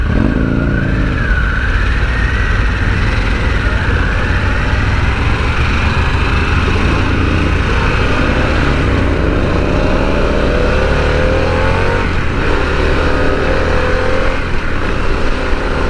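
Harley-Davidson Pan America adventure motorcycle accelerating on the highway, a loud, steady engine drone with rising pitch sweeps over constant wind rush, heard close from the rider's position without speech.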